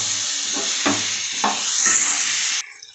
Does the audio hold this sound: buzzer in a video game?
no